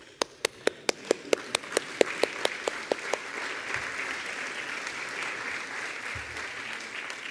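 A church congregation breaks into applause during a sermon. A dozen sharp, evenly spaced claps open the sound, then soften into a steady wash of scattered clapping that carries on at moderate volume.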